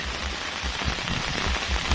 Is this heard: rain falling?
yes